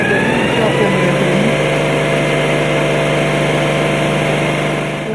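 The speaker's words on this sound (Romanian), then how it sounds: "pompa de apă de înaltă presiune, 100 bar, motorul pompei" Fire truck's 100-bar high-pressure water pump engine running steadily, a loud continuous mechanical drone with a high whine, constant throughout without pause.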